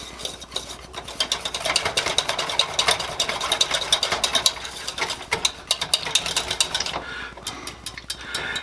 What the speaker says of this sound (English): And we're just going to whisk this all together.